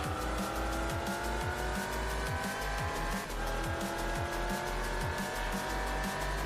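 Mazda RX-7 race car in Gran Turismo 4, its engine roaring loud and steady with repeated rising revs and gear shifts while tires squeal throughout.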